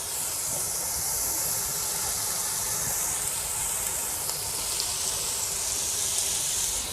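Green chillies and spices frying in a pan for stuffed bitter gourd give off a loud, even, continuous sizzle and hiss with no breaks.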